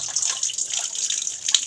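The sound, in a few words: draining extra water from soaked idli rice grains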